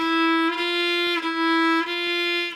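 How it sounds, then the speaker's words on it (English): Close, clear violin tones alternate between two neighboring pitches a half step apart, bowed smoothly with brief changes between notes. "So a half step would sound like this."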